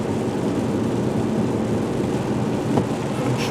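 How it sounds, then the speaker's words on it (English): Rain begins falling on a road during a thunderstorm, a steady broadband wash of drops and spray with a low rumble underneath and a faint brief knock near the end. "Already there's some ponding on this road and the rain just started."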